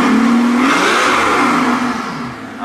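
A Mercedes-AMG S65 Coupe V12 engine with a catless valved exhaust revs loudly to about 4,500 rpm and winds down, with a whirring turbo whine riding over the roar, close by and without voices.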